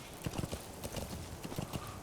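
A horse gallops in Metal Gear Solid 5, hooves clattering in a quick, uneven rhythm of close, loud thuds throughout.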